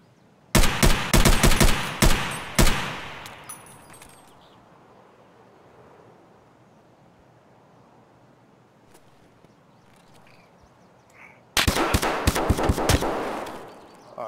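Gunfire in the shooter Escape from Tarkov: a rapid volley of loud close shots, a long quiet stretch with faint distant pops, then another heavy burst of fire.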